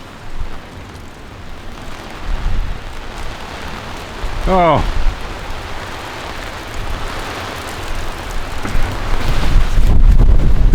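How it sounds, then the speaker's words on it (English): Steady rain pours on a Cotswold campsite during a thunderstorm, mixed with gusty wind buffeting the microphone. A brief voice exclamation rises midway, and the wash of rain grows heavier toward the end. "it is thunder and lightning and rain"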